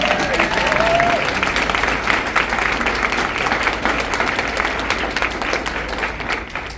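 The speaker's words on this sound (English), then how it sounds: "so let's give them a round of applause." Sustained audience applause at a correctional education conference, dense steady clapping from a crowd with a brief whistle-like tone near the start, fading slightly toward the end.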